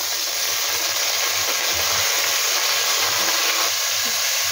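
Oil in a pot sizzling as salt is added and briefly fried before chicken goes in for a stew, a dense continuous hiss, close and steady throughout.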